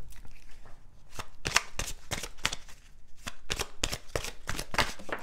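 Tarot cards are shuffled in quick, crisp riffling bursts close by, with short pauses between several rounds of brisk flutter and slapping.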